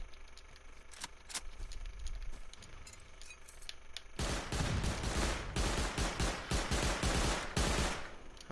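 Video game shootout near a compound: a few scattered shots at first, then a sudden, loud and sustained barrage of rapid gunfire.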